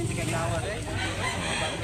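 A rooster crows amid the bustle of a chicken market in Consolacion, North Cebu, with clucking fowl and voices mixed in close by.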